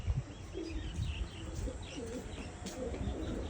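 Pigeons coo softly with low, rounded calls at a steady distance, over faint outdoor background noise.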